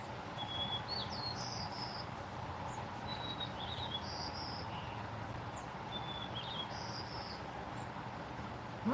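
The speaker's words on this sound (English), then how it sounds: "Oh, there's a bird. Did you hear the bird?" Several short, high bird chirps ring out at intervals over a soft, steady outdoor ambience, fairly faint and distant, with no talking.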